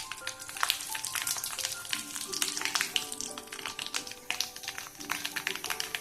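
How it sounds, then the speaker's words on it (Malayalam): Mustard seeds, dried chilies and curry leaves sizzle and crackle in hot oil, a dense run of sharp pops and spatters over a steady hiss, close but fairly quiet. "കടുക് പൊട്ടി വന്നു. ഇതിലേക്ക് മുളക് ചേർക്കാം."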